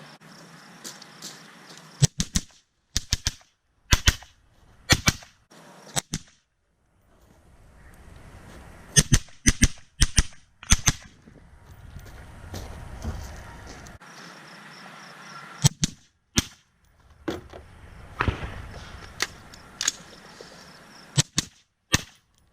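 Rifle fired through a suppressor outdoors by a shooter wearing a gas mask, with a series of sharp, spaced shots in small groups and quiet pauses between them, plus faint rustling and handling noise.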